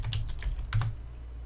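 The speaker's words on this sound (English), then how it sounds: "Go back to the search box, type in" A short burst of clacking keys on a computer keyboard, about six quick, close taps in an uneven rhythm, then quiet.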